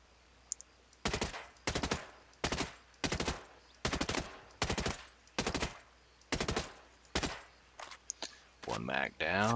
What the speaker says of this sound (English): Testing the 805 Bren